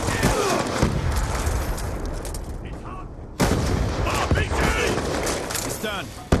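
Hellstorm missile strikes in a Call of Duty–style shooter game, booming explosions and gunfire in dense bursts, loud and close, with a pause near the middle, game voices calling out over the blasts.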